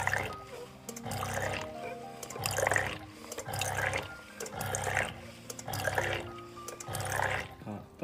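A sensor-triggered automatic liquid filling machine dispensing measured liquid into bottles in a continuous run, with repeated low pump hum cycles and splashing liquid bursts at a steady rhythm, close and moderately loud.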